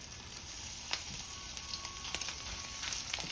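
Red hot link sausages sear in a hot skillet, giving a steady bright sizzle with scattered small pops and crackles throughout, close and continuous with no talking.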